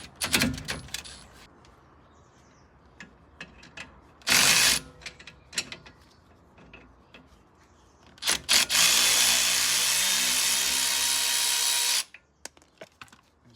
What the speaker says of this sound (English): let's pop the top bolt out